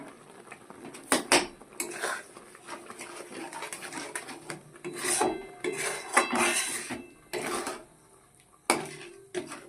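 Semolina pudding stirred in a pan with sugar added, giving repeated scraping and clinking of a spoon against metal, uneven bursts close by with no talk.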